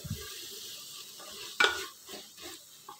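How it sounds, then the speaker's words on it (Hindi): Onion and spice masala frying in a pan for jackfruit curry, with a spoon stirring and scraping through it, producing soft sizzling and a sharp clatter midway. "मसाला भुनिया गया।"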